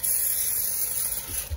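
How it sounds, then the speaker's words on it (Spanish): Cooking spray hisses steadily from an aerosol can onto a paper-lined baking mold prepared for corn bread with cheese, a close continuous spray lasting about a second and a half before a soft handling bump. "Y ya le puse su spray acá así para que no nos lo vaya a pegar."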